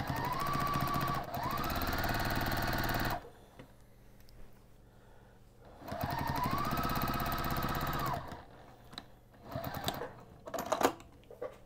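A sewing machine stitches down quilt binding in two loud, steady runs of several seconds each, separated by a pause with soft handling noises and a few sharp clicks toward the end.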